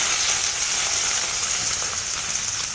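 Cleaned adamant creeper stems sizzle steadily in hot oil in a pan, a continuous bright crackling fry close up with no break.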